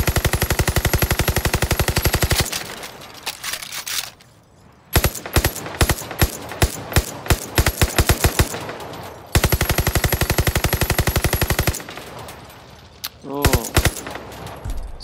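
In Far Cry New Dawn, a weapon on full auto fires several long, rapid machine-gun bursts of evenly spaced sharp cracks, split by short pauses and a few quieter stretches.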